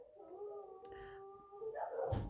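Several dogs howl in long, wavering drawn-out tones that hold steady in the background, with a louder, rougher burst of noise rising near the end.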